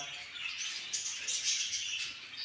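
Small birds chirping and tweeting in a breeding facility, a busy overlapping chatter of high calls, fairly close and continuous, with no talk.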